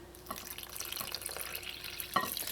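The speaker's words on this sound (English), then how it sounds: "And now you're going to add all of your water." Water is poured steadily into corn flour dough with a light splashing trickle, close and fairly quiet, ending in a brief louder splash.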